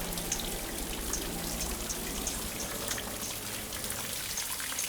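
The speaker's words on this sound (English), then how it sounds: "Nice sound of trickling water everywhere." Soft, steady trickling and dripping water all around a garden in Kanchanaburi, Thailand, a continuous gentle patter with scattered droplets, no voices.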